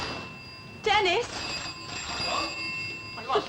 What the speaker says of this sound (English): The phone. It's ringing.